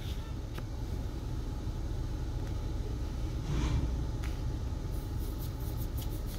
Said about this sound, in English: Man, the Patron truck is loud.